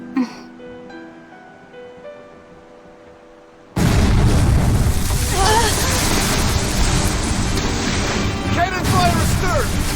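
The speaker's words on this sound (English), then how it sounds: "Cannon fire astern! Pirates!" Naval cannon fire from a pirate ship booms out in the RPG Tales of Berseria, a sudden loud blast that gives way to a dense, sustained barrage of explosions and crashing at sea, with music audible before the blast.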